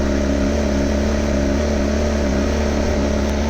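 A superbike engine runs at a loud, close, steady high idle and revs with a constant throaty drone, heard alone without talk.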